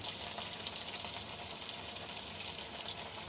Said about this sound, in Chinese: 最緊要一樣嘢就係煎到佢香口啊，個外表咧有啲焦香先。